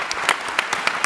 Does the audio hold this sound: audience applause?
yes